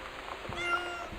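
A person's voice imitates a cat's meow, a short sequence of soft, nasal mewing calls, fairly faint and close, with no other talk.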